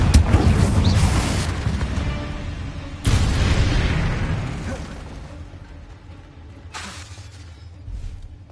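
The Confringo blasting spell goes off in the Hogwarts Legacy video game: two heavy booming explosions with crackling debris that slowly fade, followed by a couple of smaller, fainter bursts near the end.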